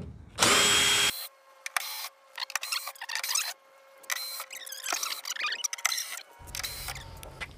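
A power drill removes factory bolts from a Jeep Gladiator tailgate, whirring in short bursts, revving and stopping repeatedly, with mechanical clicks between runs and a low hum at the end.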